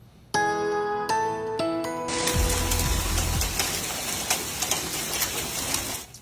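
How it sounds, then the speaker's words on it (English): Rain from a winter storm over San Diego County falls in a steady wash that follows a few plucked musical tones at the start. Moderately loud, with scattered ticks and taps through it. "That winter storm moved over San Diego County. It dropped rain, as you can see, hail and snow."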